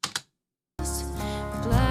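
Two quick mouse clicks in Pro Tools 8 land close together at the start, followed by a brief silence and then loud music playback that fills the rest.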